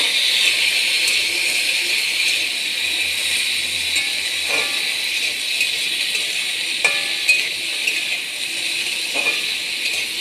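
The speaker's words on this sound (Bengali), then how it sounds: "আলুগুলো দিয়ে দেওয়া হবে, নাড়াচাড়া করে নিই" Potatoes sizzle and fry in a hot pan with a steady, bright hiss throughout, while a few faint scrapes and clinks of stirring poke through at intervals.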